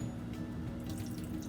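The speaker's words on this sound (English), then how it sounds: "I'm just gonna add a little water here" Tap water running into a pot of thick chicken and rice soup with celery and carrot, a steady close hiss and splash that continues throughout with no one talking.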